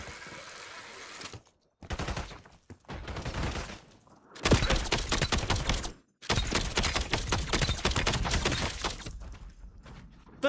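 Rapid video-game gunfire rattles in long automatic bursts, loud and close, broken by short pauses and near-silent gaps, with hardly any talk over it.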